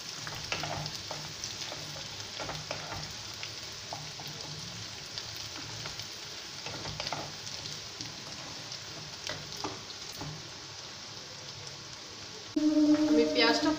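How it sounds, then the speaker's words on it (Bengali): Onions fry in a pan until golden, a steady close sizzle with scraping stirs running throughout, a voice speaking over it and a louder burst near the end. "আমি পেঁয়াজটা পুরো গোল্ডেন করে ফ্রাই করে নিয়েছি।"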